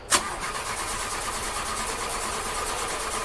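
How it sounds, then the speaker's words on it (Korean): A car engine in a horror video game cranks with a brief sharp catch at the start, then settles into a steady, even idle hum that continues to the end. "시동 걸렸습니다"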